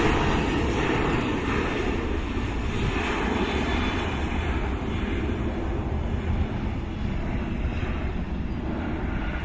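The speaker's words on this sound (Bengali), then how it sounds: "আসছে স্কাই আপ এয়ারলাইন্সের বিমান, এটি এখন চেন্নাইয়ের উদ্দেশ্যে উড়ে যাচ্ছে," A SkyUp Airlines Boeing 737 jet flies overhead, its engines a continuous loud roar that stays steady and broad throughout, with no voices.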